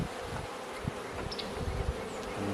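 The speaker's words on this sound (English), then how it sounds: "There's a few bees on it" Honey bees hum around an opened hive during a first hive inspection, a constant close buzzing drone with faint handling noises and no talking.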